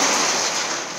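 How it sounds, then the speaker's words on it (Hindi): Heavy rain pours down in a dense, steady hiss that fills the whole moment, loud and close with no break. "बहुत जोर का बारिश लग रहा है देखो"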